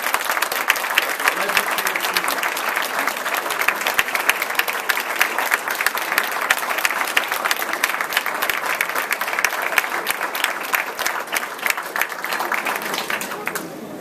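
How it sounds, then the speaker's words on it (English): Graduates at a graduation ceremony applaud the audience, with steady, dense clapping from many hands that continues evenly throughout the hall. "give them a round of applause for their encouragement and help"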